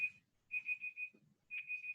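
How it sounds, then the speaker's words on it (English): A timer alarm going off during a short talk, a steady high electronic tone pulsing in three bursts of rapid beeps separated by brief pauses, with faint low room sounds between them. "I actually put a timer on for myself"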